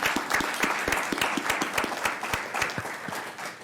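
A modest audience at a local candidates forum claps for the candidates, a steady mid-level round of applause with several distinct sharp claps standing out near the recorder.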